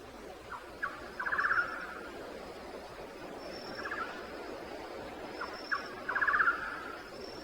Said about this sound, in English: The insistent calls of the golden-naped barbet are a constant companion